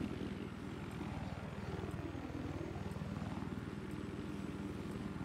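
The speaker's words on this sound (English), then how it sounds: "I see a helicopter going" Little Bird helicopter in Battlefield 4 on the Flood Zone map, a rapid, steady rotor chop with a low engine drone, moderately loud and continuous, no voices.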